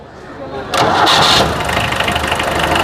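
A vintage Fiat's engine cranks and catches, then settles into a loud, rough idle close by at a car expo, with people talking over it.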